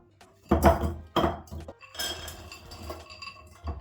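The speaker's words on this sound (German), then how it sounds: "Und dann gebe ich die Beeren in so kleine Töpfe." Clinking of small pots as berries are put into them, a couple of sharp knocks followed by lighter rattling and scraping, close by with no talking.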